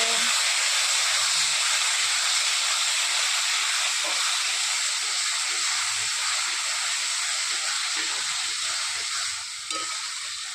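Chicken curry frying with coriander-cumin paste makes a loud, continuous hiss and sizzle up close, a steady rush that dips slightly near the end.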